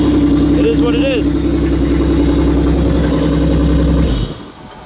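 A 1993 Buick Regal engine idling steadily with a low, even hum under someone talking close by, then the engine noise suddenly drops away near the end.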